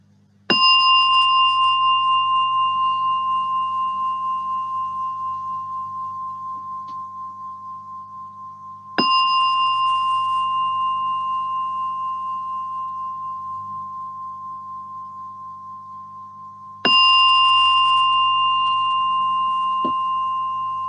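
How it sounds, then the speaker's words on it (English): A gong struck three times at slow, even intervals during a guided mindfulness meditation, each stroke a clear ringing tone that sustains and slowly fades before the next. "And with the sound of a gong like this,"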